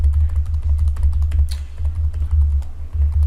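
Computer keyboard typed on steadily as card details are entered into a checkout form, a close, rapid stream of key clicks over a low background hum.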